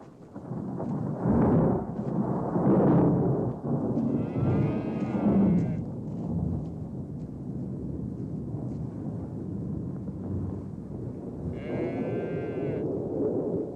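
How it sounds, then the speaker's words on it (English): Thunder rumbling low in a 1955 adventure film, with frightened oxen lowing and bellowing in bursts near and far, along with a couple of high creaking or bellowing cries over the steady storm. "Kurt, the thunder's frightening the oxen"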